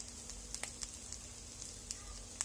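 Seasoned Chinese kale tossed into a hot frying pan, giving a steady low sizzle with small crackles and light pops close by.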